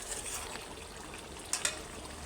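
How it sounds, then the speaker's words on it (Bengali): Water poured into a pot of thin chicken curry, a soft steady pouring and sizzling hiss at low level, with a couple of small splashy clinks near the end. "এবার আমি ঝোলের পানিটা দিয়ে দেব।"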